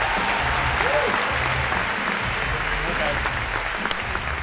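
A lecture audience in a large university hall claps for a participant, broad steady applause mixed with room rumble and a low murmur of voices, staying even in loudness throughout.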